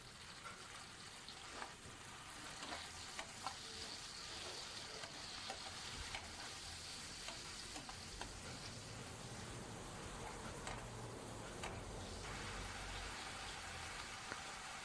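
Onion paste frying in a pan for a potato and jackfruit gravy, a steady hissing sizzle with scattered crackles running evenly throughout, fairly faint and with no talking.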